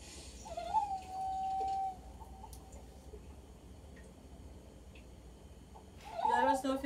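A recorded loon call played back, a sustained wavering tonal wail, then a later burst of quavering notes, faint and heard under a quiet room with a voice talking.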